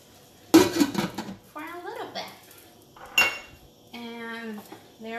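A lid clatters onto a metal cooking pot of vegan feta pasta amid sharp clinks and knocks of cookware, with a person speaking between the metallic hits.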